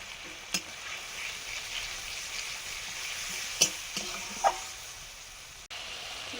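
Spice paste with chilli powder and water is stir-fried in a pan, making a steady close sizzle with a few soft spatula taps and scrapes.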